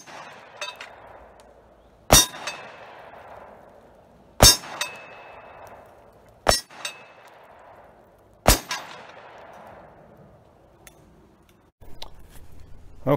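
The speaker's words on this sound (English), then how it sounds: "We just shot the crap out of it. 357 Magnum, some 45 ACP, and then the CZ Scorpion" Shots from a .357 Magnum and .45 ACP ring off an AR500 steel IDPA target, four loud sharp impacts spaced about two seconds apart, each followed by a metallic decaying ring, then fainter clinks.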